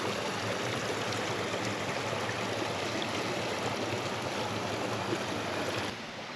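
Water flowing along a muddy countryside stream, a continuous, close rushing and bubbling wash that stays steady and fairly loud before dropping slightly at the very end.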